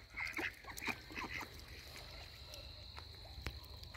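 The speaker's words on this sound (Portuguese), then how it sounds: "Esse casalzinho de marreco." Faint quacks from a pair of ducks come from some distance over a steady outdoor hum, with insects chirping and a few scattered knocks.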